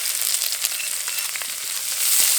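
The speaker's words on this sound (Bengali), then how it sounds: "এবার দিয়ে দেবো একটা মাঝারি সাইজের পেঁয়াজ কুচি" Chopped onion hits hot mustard oil, setting off a bright, close hiss of frying that swells slightly near the end, with a few faint crackles.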